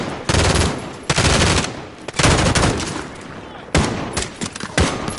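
Bursts of heavy automatic gunfire in Call of Duty Modern Warfare, loud close volleys separated by short pauses, with distant shots and battle noise between them.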